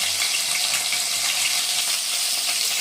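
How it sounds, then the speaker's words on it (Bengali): Poa fish frying in a hot pan with vegetables, a steady dense crackling sizzle throughout with soft popping, close and fairly loud, no talking. "দেখুন মাছটা কিন্তু ভাজা হচ্ছে"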